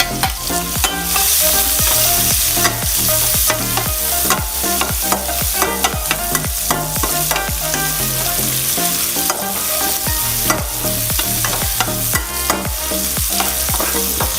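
Oysters, holy basil and other ingredients stir-fry in hot oil, a loud, steady sizzle with rhythmic scraping strokes of a spatula against the pan throughout, no voices.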